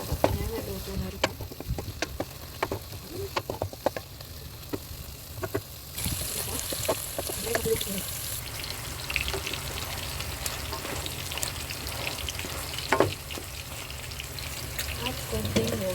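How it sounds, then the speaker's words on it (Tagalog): Fish sizzles as it fries in a pan alongside a home-cooked mixed vegetable dish with chicken balls, a steady crackling hiss with scattered pops and clinks of utensils, rising louder midway. "Isda namin, pinipirito na."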